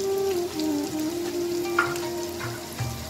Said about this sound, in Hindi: इसको हम थोड़ी देर सौते करेंगे।